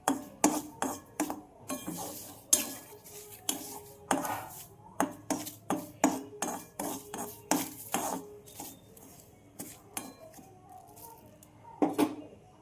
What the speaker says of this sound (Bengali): আমি কড়াই সুজি দিয়ে দিয়েছি, এটা লাল করে ভাজবো সুজিটাকে